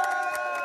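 At a school dunk contest in Istanbul, a crowd cheers and applauds in a brief, loud, continuous burst of massed voices.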